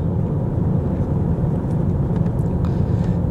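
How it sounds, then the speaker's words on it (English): Steady, continuous rumble of light road traffic in Atlanta, Georgia at late morning, a broad low drone of passing cars with no distinct pauses or talk. "And this is very light traffic."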